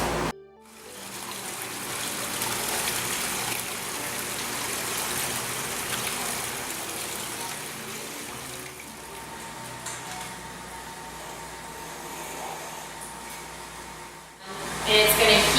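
Milk flowing from a line into a pitcher at a farm cheesemaking room, a steady rushing, trickling pour lasting over ten seconds, cut off briefly near the end, with no talk.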